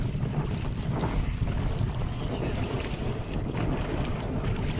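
A fishing boat travels along a river deep in the Sundarbans forest, with a constant low rumble of the boat moving through water and heavy wind buffeting the microphone throughout.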